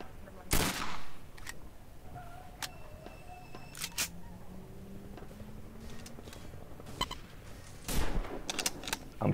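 Sharp, scattered gunshots in a WWII video game set in 1942, a few loud close cracks amid fainter distant shots over low background noise.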